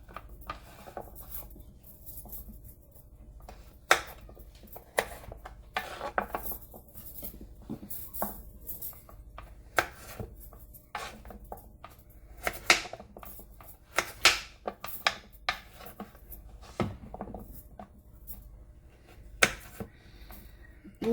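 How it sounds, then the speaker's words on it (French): Fresh coconut being grated in a grating machine, giving irregular scraping, rubbing and knocking sounds with sharp clatters scattered throughout, moderately quiet and without talk. "le couper pour pouvoir le râper dans la machine ici présent"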